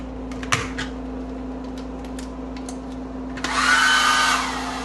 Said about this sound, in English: Hair dryer, does it work?